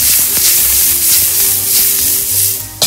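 Pine nuts frying in a hot pan give a loud, steady sizzle, with faint scrapes and clicks of stirring under it and a sharp clatter at the very end.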